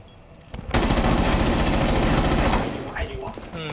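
Loud, sustained video game gunfire in a room, a dense burst of rapid automatic shots lasting about two seconds before tapering off, with a voice speaking briefly afterwards.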